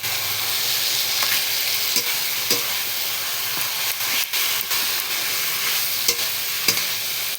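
The head of a large two-kilogram fish fries with spices in a pan, giving a steady loud sizzle and hiss broken by several sharp stirring clacks and scrapes.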